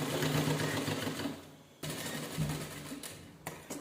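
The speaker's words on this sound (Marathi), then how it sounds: "व्यवस्थित असं ठेवायचं आणि त्याच्याने शिलाई करून घ्यायची." A sewing machine runs steadily, stitching a binding strip along the back neck of a blouse. It whirs close and alone, stops briefly partway through, then starts up again.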